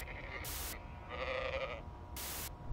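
A sheep in the video game Amanda the Adventurer bleats in a short wavering cry, framed by a couple of sharp bright noise bursts, all over a low steady game ambience.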